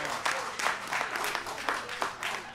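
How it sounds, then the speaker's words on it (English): A church congregation claps in praise, rhythmic bursts of many hands sounding together in a steady beat, some close and loud with crowd noise beneath. "clap your hands and give God praise."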